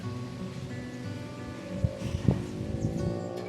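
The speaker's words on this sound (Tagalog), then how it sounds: "Mahangin po dito sa terrace nila" Soft, steady wind noise with faint rustling on a house terrace in Kalinga, a few brief louder bumps near the end.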